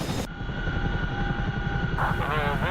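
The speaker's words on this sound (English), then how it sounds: "Formation flying with the Chinook." A Chinook helicopter in DCS World flies in formation, giving a steady droning rotor and engine rumble with a pulsing low beat and a constant tonal whine, loud and close.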